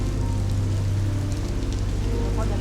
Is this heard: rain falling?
yes